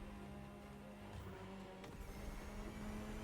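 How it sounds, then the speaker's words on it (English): A Ferrari supercar in The Crew Motorfest: a steady, low engine drone with faint tire noise, fairly quiet and with no talking. "Just listen to the car you're driving."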